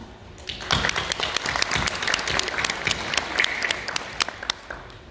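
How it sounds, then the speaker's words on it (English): An audience at a blockchain technology event in Korea gives a short round of applause, a dense burst of many hands clapping that swells quickly and gradually thins out. "I'd like to have a very quick round of applause for Professor Park"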